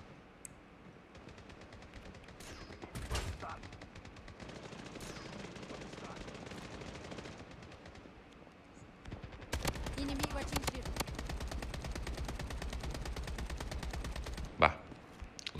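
Rapid automatic gunfire from a video game shooter, in loud bursts and sustained volleys, with sharp single shots mixed in, heard up close under faint background voice chat.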